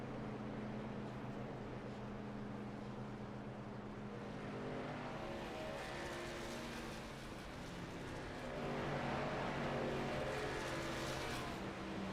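A race car rolls to a stop in a pit box at the end of the pit lane during the South Carolina 200, its engine a steady loud drone with wavering tones.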